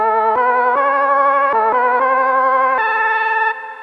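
A sustained lofi synth melody on a Novation Circuit Rhythm steps through several held notes with a buzzy, effected tone and a trailing reverb echo, sidechained to the kick, then drops quieter near the end.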